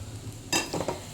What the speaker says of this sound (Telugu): ఈ రకంగా ఉల్లిపాయలు వేగిపోయాక మనము దీంట్లో కలిపేసుకుందామండి.